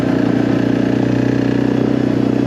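A Suzuki KingQuad ATV engine drones steadily and close at a constant pitch while riding, with a mechanical clatter running through it and no talk over it.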